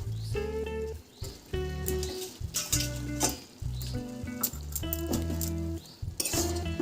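A spoon stirs chopped coriander into a pot of red lentil dal with cabbage and ghee, giving light clinks and a soft sizzle under steady tonal background sound.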